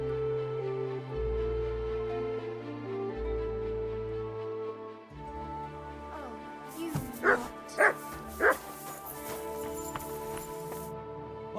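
A dog in Kingdom Come: Deliverance II barks three or four times in quick succession over steady game music and ambience, with a faint whimpering yip before the barks.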